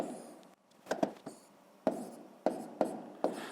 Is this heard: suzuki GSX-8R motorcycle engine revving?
no